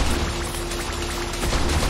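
Sustained gunfire in the mobile shooter game T3 Arena, a dense, continuous burst of rapid shots with booming impacts, loud and steady throughout with no pauses.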